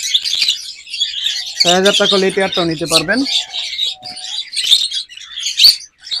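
Lovebirds chirp and tweet in a bird shop, a dense, steady chatter of high calls running through the whole stretch while someone talks over them in the middle.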